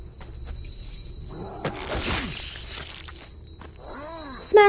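Glass shatters with a loud crash in the horror video game The Evil Within, over a low, groaning ambient background.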